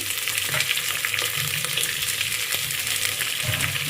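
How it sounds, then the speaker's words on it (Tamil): Onion, green chilies and crushed garlic fry in a hot pan with a dense, continuous sizzle, broken by occasional light scrapes and taps of a stirring spoon, and no talking. "வெங்காயம் 2 பச்சை மிளகாய் போடுறேன். கொஞ்சம் வெள்ளைப்பூண்டு 2-3 கொஞ்சம் தட்டி போட்டுக்கிறேன்."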